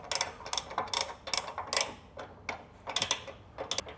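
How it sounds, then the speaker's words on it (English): A 24 mm ratchet spanner tightening a hitch bolt while a base station mount is installed, giving bursts of quick clicking pawl ticks in uneven strokes, close and fairly quiet. "Use your 24 mil ratchet spanner."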